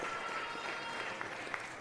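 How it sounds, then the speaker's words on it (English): Colleagues and people in the gallery applaud Curran Price, a steady wash of crowd clapping heard faintly and at a distance, with a few sharper individual claps. "give our colleague, Mr. Curran Price, a big round of applause"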